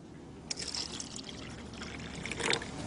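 Water pours in a faint, steady trickle with a brighter splashing burst near the start and another toward the end, quiet and close with no voices.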